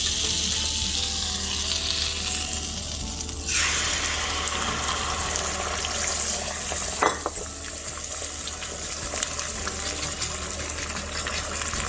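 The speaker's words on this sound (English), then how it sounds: "4 eggs scrambled in butter and all the rest of the bacon." Scrambled eggs and bacon fry in butter in a pan with a loud, continuous crackling sizzle close by, swelling when more food goes in, plus a few scrapes and clicks of a utensil.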